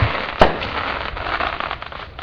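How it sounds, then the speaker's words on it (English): Independence Day fireworks finale: a single sharp, loud bang near the start gives way to a dense, ongoing crackle and rumble of explosions in the distance. "me doing the finale of my Independence Day fireworks"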